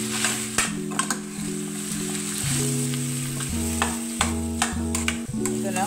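Chopped onion, sweet pepper, thyme and garlic sizzling and being stirred in a pot, a steady close frying hiss with soft scraping strokes of the spoon throughout, no voices.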